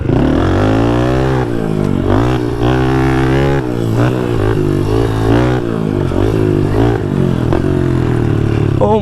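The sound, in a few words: JR80 pit bike engine revving while riding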